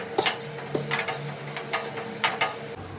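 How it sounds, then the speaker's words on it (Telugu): Food fries in a pan seasoned with turmeric and salt, with a utensil stirring and scraping in repeated short bursts over a light, steady sizzle, close and fairly loud. "ఫ్రై చేసుకుందాం"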